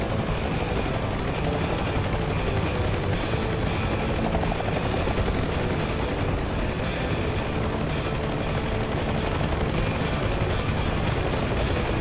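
A loud, steady troop transport helicopter rotor thump with engine roar as it takes off, continuous and close, with no voices.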